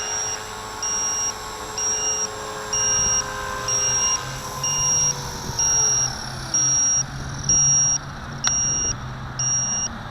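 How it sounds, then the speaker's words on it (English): A battery timer alarm sounds during a helicopter hover test: a steady run of short, regular electronic beeps repeating about once a second, fairly loud and close, over a low background hum. "Yeah, my alarm says done, and so does that one."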